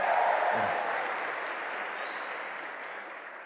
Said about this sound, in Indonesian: Tepuk tangan dong untuk Bandung.